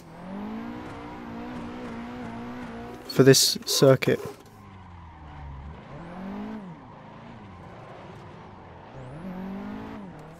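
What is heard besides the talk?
modded Nissan 180SX S13 drifting, engine and tires, video game Assetto Corsa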